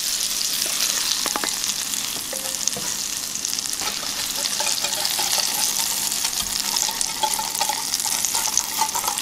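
Hot oil sizzles and crackles steadily as it is stirred into a chili spice blend for Mexican-style chili oil, a continuous close frying hiss with light scraping of the stir throughout.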